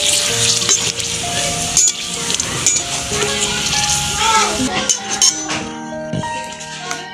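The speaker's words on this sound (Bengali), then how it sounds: "একটা করে ভেজে কত বড় বড় ফুচকা হয়েছে" Fuchka puris frying in hot oil, a steady bubbling sizzle with clinks and scrapes of a utensil, fairly close, with a few tonal sounds over it and no talk.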